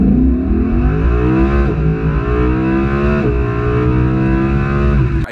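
A Lamborghini launches hard from a standstill, its engine roaring loudly and climbing steeply in pitch through successive gears, with brief dips at each upshift before rising again, close and continuous throughout.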